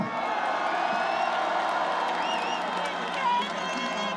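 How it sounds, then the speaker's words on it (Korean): A crowd at a rally in support of the president cheers for his defense lawyers with whoops, shouts and whistles, a dense, steady roar of many voices that stays loud throughout. "여기 안 오신 우리 변호인들께도 여러분 응원의 박수 한번 부탁드리겠습니다"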